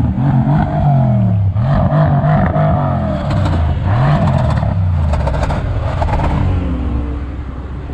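Several performance cars, a BMW M2 Competition, Audi RS5 and Mercedes-AMG C63 S, rev their engines loudly and close by at a drag race start line, with repeated rising and falling revs throughout.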